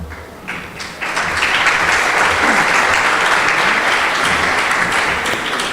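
Applause from an audience at an embassy fashion show event, starting lighter and swelling after a second into a full, steady wash of clapping that carries on to the end.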